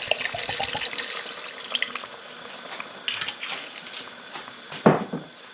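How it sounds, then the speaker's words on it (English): A full bottle of white wine glugging and splashing into a Greek lamb stew, steady liquid pouring close by for several seconds with a few clinks near the end. "you do put a full bottle of white wine in there"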